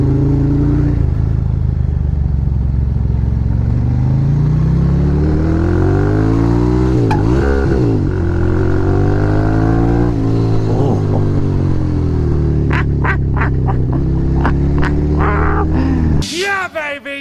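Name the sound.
motorcycle riding and accelerating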